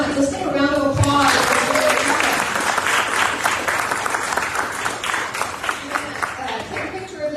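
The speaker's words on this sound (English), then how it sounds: "Let's take a round of applause." Loud, sustained applause from a large crowd, dense clapping filling the whole stretch and tapering slightly toward the end, with some voices mixed in.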